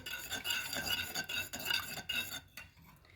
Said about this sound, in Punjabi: ਹੁਣ ਆਪਾਂ ਇਹਨੂੰ ਮਿਕਸ ਕਰ ਦੇਾਂਗੇ